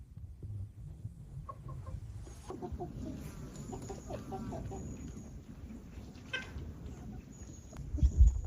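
Meat chickens on a rural farm cluck in low, scattered murmurs throughout, with a few sharper calls and some handling noise near the end.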